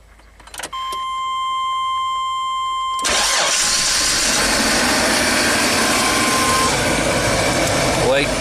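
A Chevrolet Astro van engine, long out of service, cranks briefly and then catches, settling into a loud, steady idle close by while a constant high chime rings over it.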